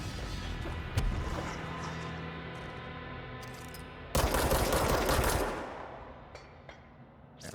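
Gunfire in the video game Control comes as sustained, dense automatic shooting over a rumbling game soundscape, with a sharp crack near the start and a louder, heavier burst midway before tapering off.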